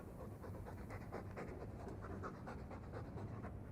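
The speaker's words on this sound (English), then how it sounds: "All that noisy dog breath, day in, day out, make him stop." A dog panting in Dragon Age 2, steady rapid breaths repeating throughout at a moderate level with a faint bed of game ambience underneath.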